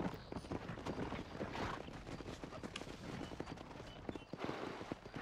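Hooves of a horse-drawn carriage clip-clopping in the Red Dead Redemption video game, a faint but steady run of quick hoof knocks over a rumbling, noisy background.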